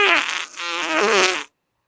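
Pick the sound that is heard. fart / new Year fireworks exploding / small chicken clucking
fart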